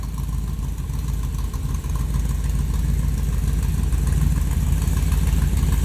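A 1994 Ford T-Bucket hot rod's engine runs at a steady, close, loud idle with a low rumbling drone and no clear rise in revs, and no talk over it.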